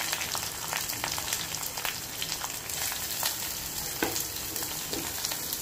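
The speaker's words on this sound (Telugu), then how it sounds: "ఆనియన్స్ కూడా వేసుకుందామండి." Onions frying in a pan for a mixed biryani, a soft steady sizzle with crackling pops and occasional stirring scrapes, fairly faint and with no talking.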